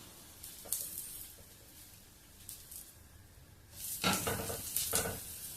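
A pesarattu dosa with onions sizzles quietly on a pan, a soft, steady crackle with light scraping and stirring touches, swelling louder and busier toward the end.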